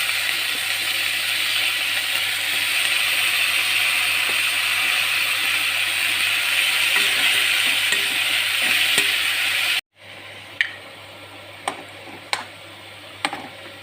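Broccoli fries in a pan with a steady, dense sizzle that cuts off abruptly, followed by a few sharp clicks and taps from the stove or utensils.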